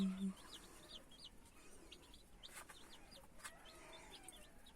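On a farm, little chicks peep faintly in a quick scatter of high calls near their mother hen, all soft and close against a quiet background.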